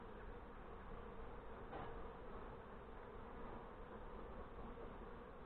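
Honeybees swarm around a newly installed nuc hive in northern Michigan, their dense, steady buzz close and constant from start to finish with no pauses.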